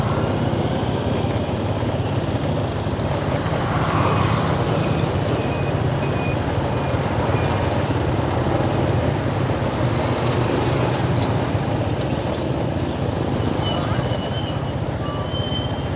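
Motorbikes ride across a bridge over the river at Chợ Lách, Bến Tre, making a continuous, steady engine and road roar that stays even and loud throughout.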